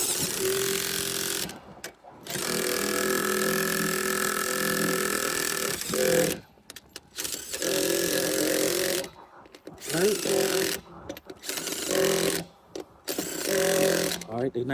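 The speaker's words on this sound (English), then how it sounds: "Now, since the lug nuts are back on, here's my impact gun." An impact gun tightens the lug nuts on a 2017 GMC Sierra truck wheel. It fires in repeated loud, close buzzing bursts separated by short pauses, with someone talking between them.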